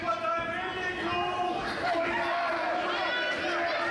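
A wrestling crowd jeers the McHaggis cousins, a steady mass of booing and raised voices with sustained, chant-like tones that fill the hall for the whole stretch and never drop away.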